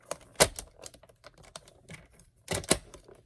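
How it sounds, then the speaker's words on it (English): A paper trimmer scores a piece of cardstock, giving a handful of sharp close clicks and scraping ticks in uneven bursts, the loudest near the start and again toward the end, with no voices. "I'm going to take this piece, and on the 4-inch side, I'm going to score it at 1/2 inch."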